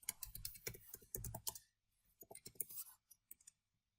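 Quick bursts of keystrokes on a computer keyboard, a dense run of clicking followed by a pause and a shorter, sparser flurry, close and fairly quiet with no talking.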